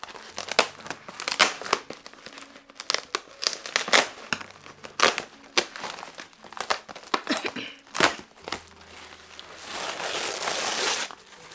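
Paper envelope from a publisher being handled and torn open to reach books inside: repeated crinkling, crackling and tearing bursts, close and irregular, ending in a longer rustle.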